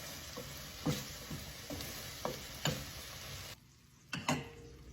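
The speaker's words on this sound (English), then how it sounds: "We're just gonna let that simmer down." Thai chili sauce simmering in a pan gives a steady close sizzle, broken by several sharp stirring knocks and scrapes and one brief quieter dip near the end.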